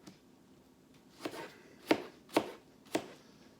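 Peeled apples are cut into small pieces on a cutting board for an apple crisp: four sharp, separate knife chops at an unhurried pace, close and clear, with no talking.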